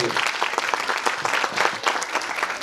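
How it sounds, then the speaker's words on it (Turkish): An audience at a kindergarten year-end show applauds a whirling dervish performance with loud, busy clapping that swells and dips, while voices murmur underneath. "Alkışlar Sema Senler için geliyor."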